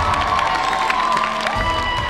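A live studio audience at a televised singing competition applauds and cheers, a dense steady roar of clapping and shouting voices filling the whole short stretch.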